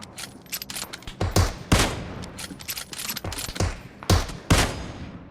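Rapid bursts of gunfire from the mobile battle-royale game PUBG Mobile, several loud sharp volleys and single shots spread irregularly across the stretch with brief gaps, no voice over them.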